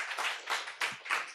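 A church congregation applauding at a Sunday worship service, a few rhythmic, evenly spaced bursts of group clapping.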